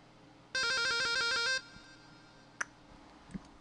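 A phone ringtone chirps in a quick electronic trill for about a second, fairly close and clear, followed by a couple of faint clicks in a quiet room.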